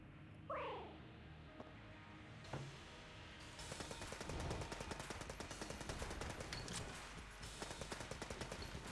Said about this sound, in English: I'm gonna use a machine pistol for the second phase.